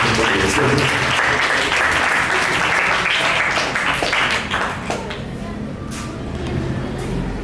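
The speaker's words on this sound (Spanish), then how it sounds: "aplausos para su compañero" Students at a secondary-school debate in a Colegio Cristo Amigo classroom applaud a classmate, loud close clapping that fades after a few seconds into room noise and faint voices.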